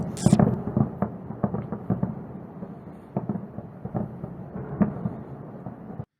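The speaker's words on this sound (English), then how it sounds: "explosions being heard in eastern Tehran as a result of the air defense system operating" Air defense fire over eastern Tehran gives a string of distant booms and sharp cracks, irregular and uneven in loudness, one strong blast near the start followed by scattered thuds across a low rumbling background.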